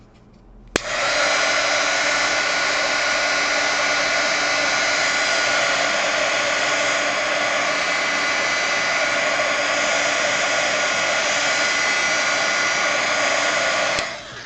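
A heat tool drying a watercolor painting on hot press paper switches on with a click and blows a loud, steady, close whirring hiss for about thirteen seconds before cutting off.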